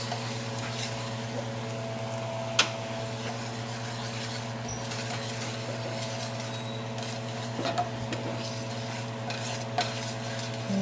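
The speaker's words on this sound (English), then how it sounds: "Just trying to keep stirring it so it doesn't stick to the bottom of the pot and burn." A spoon stirs curry in a pot over oil, scraping and rubbing steadily against the bottom with a few sharper knocks, under a soft sizzle and a constant low hum, close and moderately loud with no talking.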